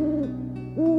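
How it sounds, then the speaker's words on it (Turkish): An owl hoots from a tree in two clear, close, tonal calls separated by a brief pause, with no speech. "O sırada kart sesiyle ağaçta öten baykuşu gördü."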